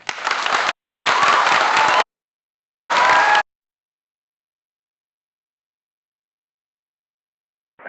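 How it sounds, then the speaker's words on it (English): Three short bursts of an audience clapping for astronaut Mark after a school radio call with space, each loud and abrupt, separated by sudden silences, followed by a long quiet stretch. "we would like to give you a huge round of applause for doing this"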